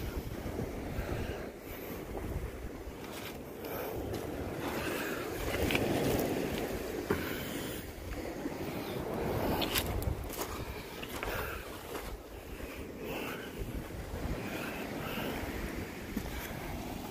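Ocean waves wash onto the shore at Withernsea, a steady rolling surf roar with gusts of wind buffeting the microphone and no voices.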